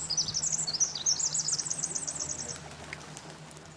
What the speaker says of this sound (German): Wenn wir den Klang der Erde hören, fällt auf, dass er ganz ähnlich wie das Zwitschern von Vögeln klingt.